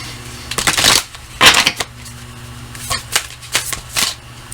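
A deck of Moonology oracle cards being shuffled by hand in several quick riffling bursts, close and crisp, with pauses between, over a low background hum.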